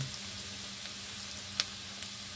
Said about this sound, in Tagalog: Melt na yung butter. Nilagay ko na yung garlic natin.